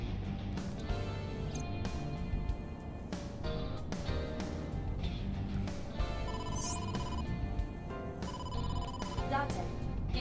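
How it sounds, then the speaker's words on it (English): A phone rings with an incoming call from the boss in the video game AI: The Somnium Files. Bright, repeating electronic ring tones sit over steady in-game background music for the full stretch. "incoming call from the boss"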